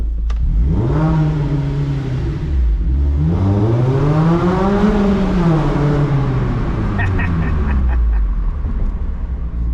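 A loud race exhaust roars as the car accelerates through the gears at an autocross at Nashville Superspeedway, pitch rising and falling, booming and echoing as if in an enclosed space.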